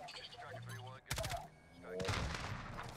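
Precision rifle fire in a video game: a sharp burst of gunshots rings out near the middle, with voices talking over the game sounds before and after.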